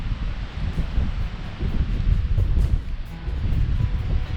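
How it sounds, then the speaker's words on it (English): Wind gusts across open fell country on a hike near Potter Tarn and Gurnel Dubs, a rough low buffeting roar that swells and eases in waves close to the microphone, with no voices. "Wind's picking up the more we get higher up into the fell"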